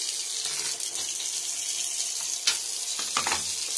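A newly installed kitchen faucet runs steadily, its hissing stream splashing into a sink, with a few brief clunks as the handle is moved and no talk.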